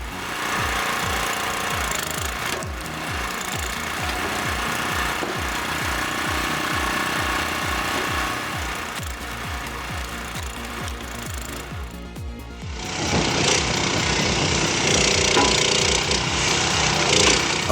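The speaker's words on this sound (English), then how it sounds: "Its 9-ton splitting force can handle even the most challenging logs with precision, making it an essential tool for firewood production and heavy-duty applications." A 9-ton hydraulic log splitter works through logs with a loud, continuous mechanical drone and rapid knocking, shifting to a harsher, brighter roar near the end as wood is forced apart.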